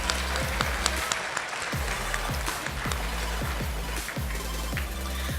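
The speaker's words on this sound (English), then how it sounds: "let's give another round of applause for Rachel Weir of North Central High School" Audience applause at a state Beta convention session honoring a high school student: steady clapping from a room full of people, moderately loud with scattered sharper claps over a low rumbling background, no speech.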